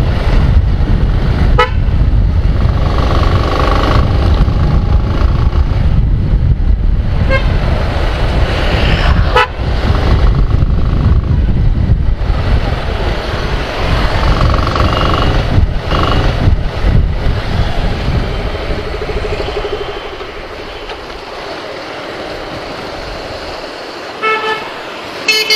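Dual-tone Shera horns on a motorcycle honk repeatedly in short bursts over steady highway traffic and engine noise, with the traffic fading quieter toward the end.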